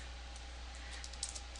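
Light typing on a computer keyboard while entering a company name into a CRM, a few faint soft clicks over a low steady hum, no speech.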